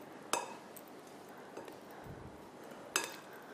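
Semolina, almonds, milk, butter and dates being stirred together in a bowl, with sharp clinks of a spoon against the dish at the start and end and soft scraping in between, quiet and close with no talking.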